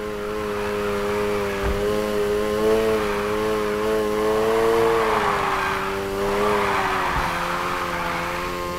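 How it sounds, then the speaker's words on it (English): A car drifts in Need for Speed Heat, its tires squealing in a long continuous howl over steady engine drone, loud and close with no voices. "let's hit a basic drift"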